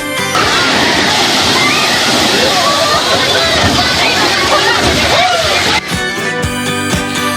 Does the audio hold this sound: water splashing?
yes